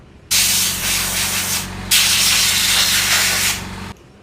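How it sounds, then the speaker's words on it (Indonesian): An air compressor nozzle blasts dust off cordless impact drivers, a Nagawa NID213K Gen2 and a Makita TD171, in two loud close hissing bursts with a short break between them. "Kita akan semprot dulu ya dengan kompresor ya, supaya kita lebih enak nanti menjelaskannya"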